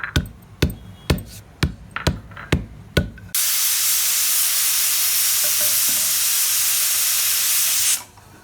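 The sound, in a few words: pounding dried coconut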